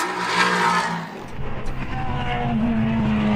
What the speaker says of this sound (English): There's the Lemma Racing's GT4 Mercedes